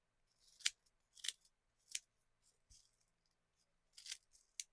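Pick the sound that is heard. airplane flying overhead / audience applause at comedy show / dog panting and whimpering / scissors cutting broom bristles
scissors cutting broom bristles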